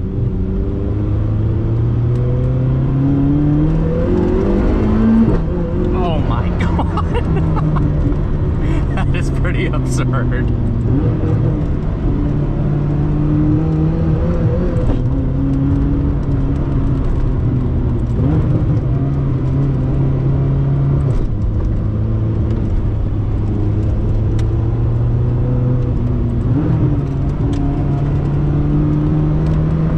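A Zenvo hypercar engine pulls hard at full throttle with traction control off, its droning tone rising and falling through gear changes, loud and close from inside the cabin while someone talks over it.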